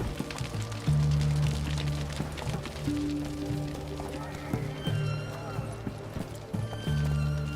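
Hooves of the horse Roach clip-clop at a galloping rhythm in The Witcher 3 video game, steady and close beneath game music and a voice.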